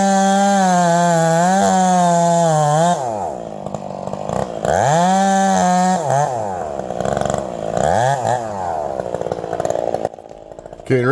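A Stihl MS460 or Husqvarna 572XP chainsaw clearing timber, loud and close, with a steady high whine, then repeated revving as it bogs into wood and winds back up.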